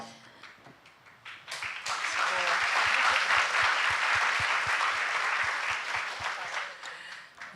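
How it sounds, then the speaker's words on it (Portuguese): An audience at a panel on plural feminisms breaks into applause, swelling after a soft start into dense, steady clapping and then tapering off near the end. "Muito bom, aplausos"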